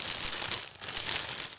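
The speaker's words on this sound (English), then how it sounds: "this plastic bag feels like one of those candy bags" Crinkling of a thin plastic bag holding board game pieces, close and fairly soft, with irregular rustles and small pauses as it is handled.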